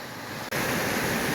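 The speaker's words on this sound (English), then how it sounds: "let's keep recording the waterfalls on the Cascade Brook as we ascend the Kinsman Range" A waterfall on Cascade Brook, along the Basins Cascade Trail on New Hampshire's Kinsman Range, roars as a steady broadband rush that jumps abruptly louder halfway through as it comes closer.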